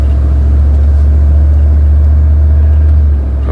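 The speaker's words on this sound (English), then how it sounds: "Oh my god, it's shifted into second gear." A Leisure Travel van pulling away from a stop on its new PCM produces a loud, continuous low engine drone heard from inside the cabin, holding steady and then easing off slightly at the end.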